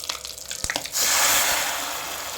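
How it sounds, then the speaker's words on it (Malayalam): Hot curry-leaf tempering is poured into a pot of curry: a few soft clinks and drips, then a sudden loud sizzling hiss that bursts up and slowly settles but keeps crackling to the end. "കറിവേപ്പില ഇട്ട് കൊടുത്ത് നമുക്ക് നമ്മുടെ വറവ് നമ്മുടെ കറിയിലേക്ക് ഒഴിച്ചു കൊടുക്കാം."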